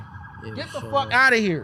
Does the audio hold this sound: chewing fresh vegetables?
no